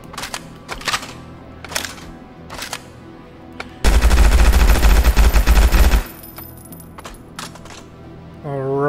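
Guns firing in the video game Hard Bullet: a few sharp separate shots, then a dense two-second burst of rapid automatic fire, followed by quieter mechanical clicks and handling sounds.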